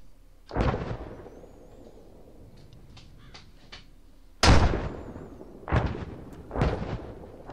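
Artillery shells strike in the ArmA video game, four heavy blasts in all: one lone boom, a pause, then three more in quick succession, each ending in a rumbling tail.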